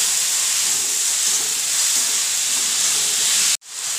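Onions and chopped tomatoes frying in a pan make a loud, steady hissing sizzle up close, which cuts off abruptly near the end.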